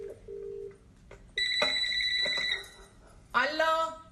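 A telephone rings in short electronic bursts between stretches of people talking, the tone starting and stopping twice over a few seconds.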